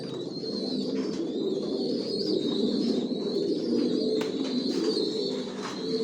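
Racer pigeons of the Janssen line cooing together in a loft, a dense continuous murmur of low coos with a steady high hiss in the background.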